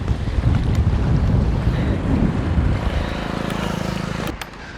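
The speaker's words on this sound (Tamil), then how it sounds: "குடையெல்லாம் வளைக்குது பயங்கரமாக இருக்குது இந்த இடத்துல காற்று" Strong storm wind during flooding in Jaffna, Sri Lanka buffets and roars across the microphone in a loud, continuous rumble that eases slightly near the end.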